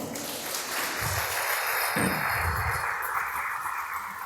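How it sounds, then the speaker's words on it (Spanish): Church congregation applauding the Lord during a sermon, a broad wash of clapping that holds steady for several seconds, with a voice briefly rising over it midway. "dale un aplauso al Señor"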